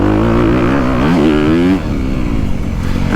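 A loud 2022 Honda CRF250R or KTM 250 Factory Edition motocross bike engine runs close by, its pitch climbing and swinging with the throttle before settling into a rough, steady idle.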